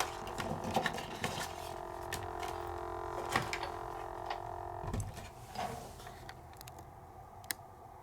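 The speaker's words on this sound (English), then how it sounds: "I'm using my Sizzix Big Shot machine" A Sizzix Big Shot die cutting machine cuts paper nearby, giving a low grinding hum with irregular clicks and ticks as the plates roll through.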